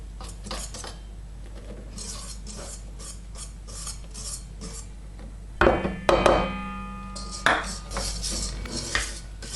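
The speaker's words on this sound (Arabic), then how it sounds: "نجيبو فوي ونبدا نضيف الفرينه ونخلطو بشويه." A whisk folds sifted flour into batter in a bowl, giving soft rhythmic scraping and rubbing strokes, then a few louder clinks and knocks against the bowl near the end.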